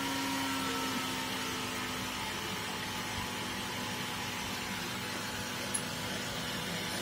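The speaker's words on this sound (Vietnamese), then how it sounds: "Tiếng kêu của quạt nó cũng chậm lại các bạn ha." Small electric fan powered by an old charger set to 9V, a steady, even whirring hum with a constant airy hiss and no speech.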